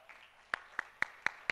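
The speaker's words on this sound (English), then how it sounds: "Are we clapping?" Sparse claps in a conference plenary hall, five sharp single claps in a slow, even rhythm, faint and somewhat distant.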